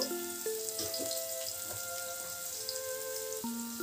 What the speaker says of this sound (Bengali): উচ্ছে ভালো করে লাল করে ভেজে নেব